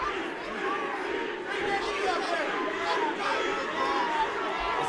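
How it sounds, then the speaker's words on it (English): Arena crowd at a heavyweight MMA fight chants a name in unison, a dense, steady roar of many voices with rhythmic calls rising through the din throughout. "It sounds like the crowd is chanting Steve."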